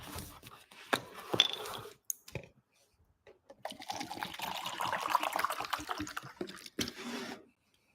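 Water is poured steadily for a few seconds, a close, continuous splashing trickle that follows some brief knocks and handling sounds, with a voice speaking around it.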